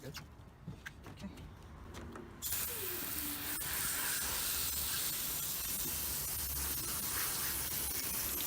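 Water sprays steadily and loudly onto a white gaming mousepad during washing, a broad hissing rush that starts abruptly after a couple of seconds of quieter handling noise and continues without a break.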